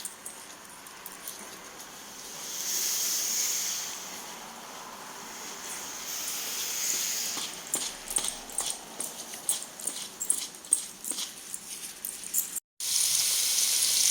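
Chicken pieces in breading frying in hot oil, turned down to medium heat, with a steady broadband sizzle and faint crackles throughout, rising slightly at times, with no talking.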